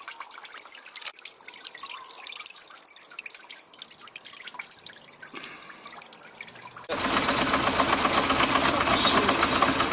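Cloudy petrol drips steadily as it drains from the carburettor of a Yamaha Diversion motorbike that won't start, close and fairly faint at first, then a louder continuous wash of flow takes over.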